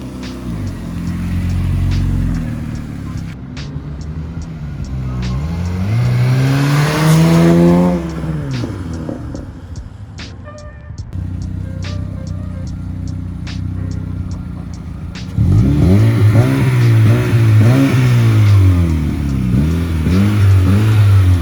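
Car fitted with a MagnaFlow resonator exhaust making repeated flybys outdoors, engine rising and falling as it approaches and passes, loud and close, with a second strong pass in the later part.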